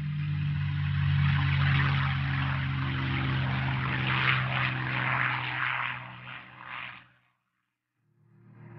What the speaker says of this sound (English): U.S. carrier planes included the Grumman Hellcat fighter, and the devastating Corsair fighter bomber